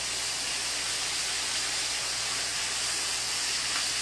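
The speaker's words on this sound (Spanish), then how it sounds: "Vamos a sellar ese pollo" Chicken thighs seasoned with salt and pepper searing in a hot pan, a steady loud broadband sizzle with no break and no voices.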